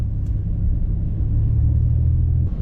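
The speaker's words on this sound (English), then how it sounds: "And my engine is freaking out again." A car's faulty engine labouring as it crawls along below 30 mph on a winter road trip, a steady deep rumbling drone close by with little change in pitch.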